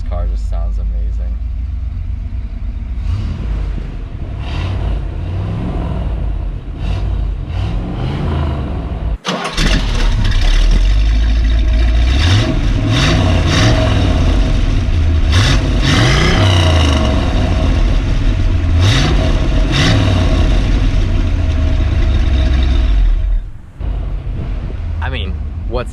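A 1963 Corvette Stingray convertible runs close by with a deep, loud rumble, its engine revved in repeated surges and briefly cut before picking up again, as someone talks throughout.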